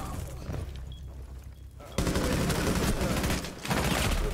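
Rapid automatic gunfire bursts out in a video game, loud dense volleys starting midway and running almost continuously, with a brief lull near the end and faint background chatter earlier.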